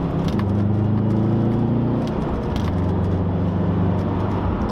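A turbocharged car engine hums and revs steadily from inside the car, with a low drone that shifts pitch midway and carries on unbroken, loud and near, with no talk.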